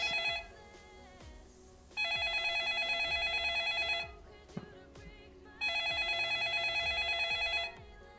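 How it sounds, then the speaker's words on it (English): A telephone rings in two long electronic bursts separated by a pause, heard at a moderate distance with faint background noise between the rings. "Answer the phone."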